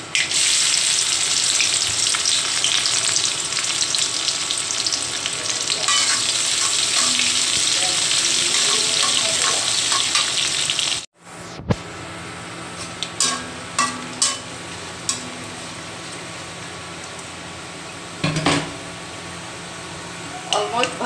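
Garlic and onion fry in hot oil in a pan with panch phoron and a torn dried red chilli, making a loud, steady sizzle. After a brief break the sizzle returns softer, broken by scraping stirs.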